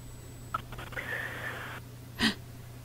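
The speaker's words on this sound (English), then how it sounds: "I can hear you breathing." Faint breathing comes through a thin, phone-like line over a low hum, with a drawn breath and a sharper gasping inhale near the end.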